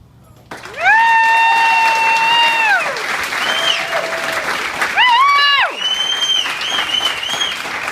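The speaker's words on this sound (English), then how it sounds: "before the applause dies" Wedding guests at a reception applaud after the best man's speech, with loud sustained clapping mixed with whistles and whoops, fading a little toward the end.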